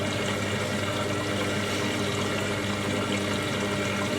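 An Indesit IWDC6125 washer dryer drum fills with water on a cottons 70ºC cycle, giving a steady, dense rush of flowing water that stays even and close throughout with no talk.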